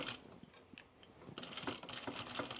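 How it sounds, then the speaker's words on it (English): A domestic sewing machine stitches around the corner of a pair of Meriam trousers, its motor whirring in quick mechanical bursts that build louder and steadier toward the end, heard alone without talk. "so I'm just going to sew around this corner."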